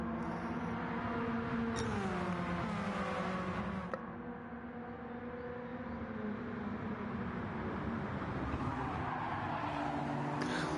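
Race car engine in the Gran Turismo 7 racing game, a continuous loud drone with shifting pitch as the car comes around to complete a lap, a brief shift near the middle, with other engines blended in.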